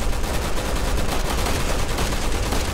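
Dense, continuous gunfire from Resident Evil 6 in a Chris and Piers mission, loud and unbroken rattling fire with no pauses and no voices.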